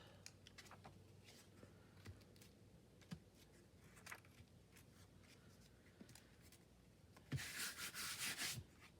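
Scrap paper rubs over wet paint on a craft card. Soft, quiet scratchy strokes come in irregular bursts, and a louder stretch of brisk rubbing sounds near the end.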